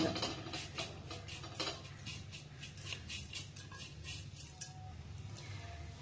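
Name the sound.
roasting beef sambal on a hot pan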